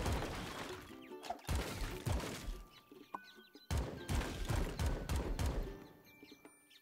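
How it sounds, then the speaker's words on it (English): A Tommy gun in a video game fires in ragged, rapid bursts with clattering impacts. The sprays come in loud volleys, broken by brief gaps, with crashing hits mixed in. "Yep, Tommy gun. Its spray is terrible"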